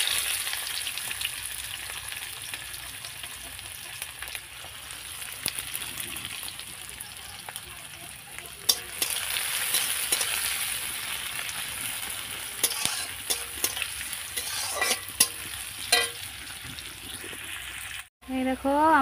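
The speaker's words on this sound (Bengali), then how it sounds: "এই দেখো, আমার পেঁয়াজটা এখন ভাজা হয়ে গেছে লাল লাল করে" Onions sizzle steadily in hot oil in a pan, with occasional scrapes and clinks of stirring over a continuous close frying hiss.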